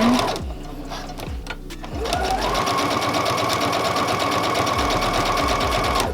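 Sewing machine stitching a cloth pad runs in a few short bursts at first, then settles into one steady, close, loud whir of rapid needle strokes for the rest of the stretch.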